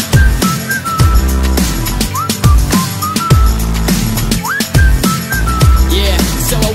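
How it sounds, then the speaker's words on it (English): Melodic whistling in a remix of a song repeats short rising phrases over a steady beat with punchy drum hits. It sits up front, loud and clear, and no one speaks. "But I didn't know what to say, so I just whistled at her."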